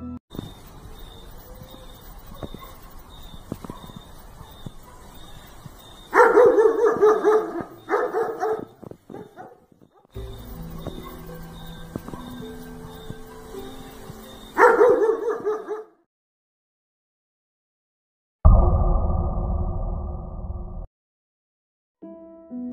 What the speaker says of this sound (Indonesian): Penampakan ini juga dirasakan oleh seekor anjing di sana, yang pada saat itu langsung menggonggong dengan sangat keras.